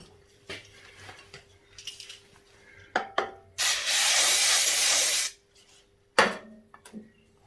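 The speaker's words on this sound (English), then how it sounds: "Brake clean? Yeah, brake clean, the ideal." Brake cleaner sprayed from an aerosol can onto motorcycle front-end parts in a workshop, one long loud hiss of about two seconds between light knocks and rubbing sounds.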